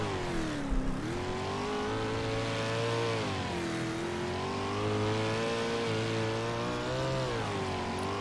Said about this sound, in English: You hear the throttle control needed to keep these 750 horsepower 360 sprints under control